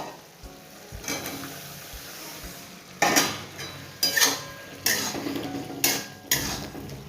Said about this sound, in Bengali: এর মধ্যে যে খেড়ো কচুগুলো ভেজে রেখেছি সেগুলো এর মধ্যে দিয়ে দেবো।